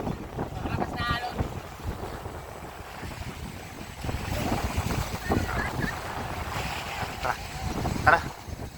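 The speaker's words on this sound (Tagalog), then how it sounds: "Sa malakas na ano? Malakas na alon." Strong ocean waves at Puka Beach, Boracay wash in under gusty wind buffeting the microphone, with people talking nearby and surges that rise and fall unevenly.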